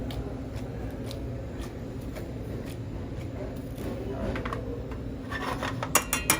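Ricotta agnolotti pasta is tossed in sauce in a pan, giving a continuous soft rubbing and scraping with a few sharper clicks near the end, and no speech.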